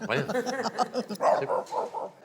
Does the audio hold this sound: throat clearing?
no